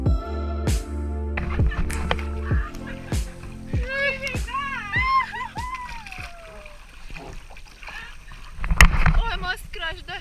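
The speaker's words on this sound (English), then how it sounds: "We are on the kayak again." A kayak is paddled across clear sea water near El Nido in the Philippines, with repeated dull paddle strokes and splashes close by, while people talk and call out over the water.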